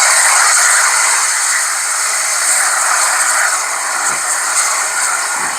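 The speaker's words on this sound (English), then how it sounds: "11 is safety valves." A Zimo sound decoder in a Dapol Hawthorn Leslie 0-4-0ST model steam locomotive plays its safety valve effect, a loud, close, continuous steam hiss that holds steady throughout.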